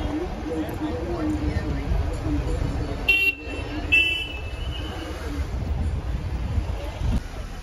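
Cars stuck in a traffic jam honk, with a couple of short horn blasts standing out in the middle over steady road rumble and wind buffeting the microphone, while voices murmur nearby.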